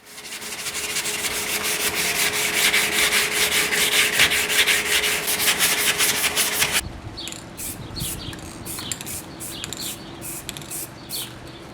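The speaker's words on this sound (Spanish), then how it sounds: "me voy a poner a lijar el horquillón." Steady abrasive rubbing of sandpaper on a metal motorcycle swingarm, continuous and close, changing to a lighter, more intermittent scraping partway through.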